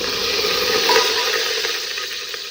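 Whole spices (cardamom, cinnamon, cloves, cumin, fennel and star anise) crackle in hot olive oil, giving a loud, steady sizzling hiss that runs throughout with no talking.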